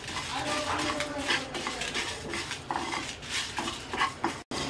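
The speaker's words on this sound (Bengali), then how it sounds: "এবার এই গোটা মশলাটা হালকা ভেজে নেব" Whole spices, including dried chillies, coriander seeds and five-spice mix, lightly dry-fried for a plum pickle, with a utensil scraping and clinking against the pan in steady, close stirring strokes.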